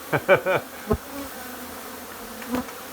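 Bees buzzing around a large hive built into the floor framing of a house, a few close, loud buzzing passes as insects fly by, then a quieter hum.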